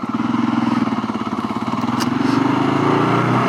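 A Kawasaki KLR650 dual sport motorcycle engine is heard from the rider's position, a close, loud, steady thumping drone with a rhythmic pulse that rises gently in pitch as it pulls along, plus some wind rush.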